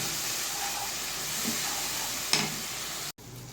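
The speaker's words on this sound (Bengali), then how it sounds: "তারপর ভালো মতো নেড়ে কষিয়ে নেব।" A spice paste with salt for katla fish curry sizzles and hisses in a pan while being stirred, with a sharper scrape burst near the middle before it briefly cuts off.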